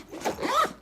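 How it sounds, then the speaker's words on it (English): A YKK zipper is pulled along an underseat luggage bag in one quick, smooth rasping stroke lasting under a second, close and moderately loud, with no talking. "It's just so much easier to zip,"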